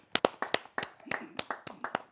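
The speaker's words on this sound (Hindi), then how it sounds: "जोरदार ताली के साथ" A small gathering at a poetry evening claps in a quick, uneven burst of distinct, close handclaps, each sharp smack separate rather than blending into a roar.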